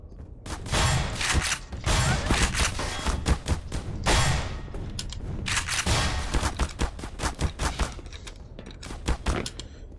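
Shotgun blasts and other weapon fire in the video game Black Mesa, a dense run of loud, booming shots with many sharp bursts in fast succession and no talking.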